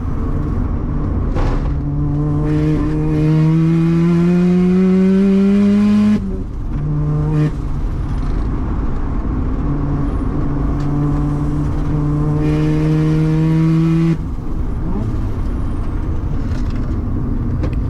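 A 400HP Mazda RX-7 with a 13B rotary engine, loud and close, climbs through the revs in steady pulls, with abrupt drops at the gear shifts near six and fourteen seconds before it winds up again.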